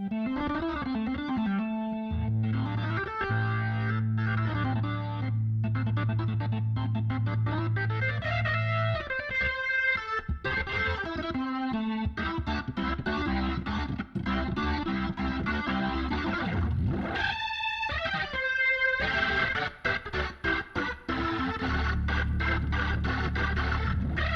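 An overdriven Hammond organ plays sustained chords and runs, gritty and loud throughout, with a rumbling bass underneath.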